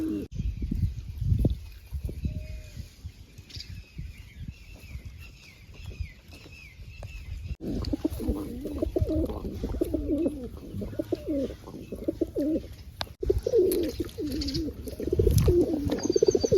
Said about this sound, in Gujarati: જો આ કબૂતર પાછું હાથમાં આવી ગયું છે